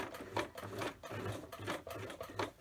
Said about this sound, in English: helps if you turn the sewing machine on